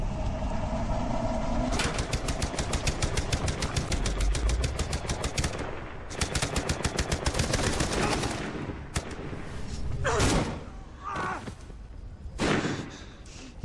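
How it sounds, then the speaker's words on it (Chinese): Gunfire in the video game Beyond: Two Souls: long rapid bursts of loud automatic fire over an engine rumble, then a short pause, another burst, and a few heavy single shots and impacts. "兄弟总算开枪了"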